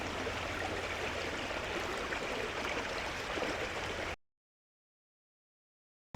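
River water flows steadily through boggy, flooded New Forest heathland, a continuous close rushing wash that cuts off abruptly into silence.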